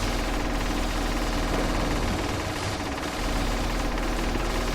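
Sustained submachine gun fire in the video game A.R.E.S., a dense continuous burst of rapid shots with steady loudness throughout and no talking.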